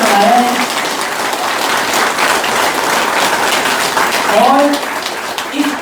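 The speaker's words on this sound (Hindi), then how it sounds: "एक बार उनके लिए जो है ताली बजाइए" An indoor audience at a company event applauds its CEO in a sustained wash of clapping, loud and dense from start to finish, with a voice speaking over it.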